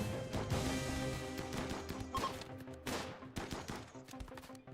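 Gunfire crackles through a RimWorld video game battle, with dense overlapping bursts and sharp reports stacked over a steady game soundtrack.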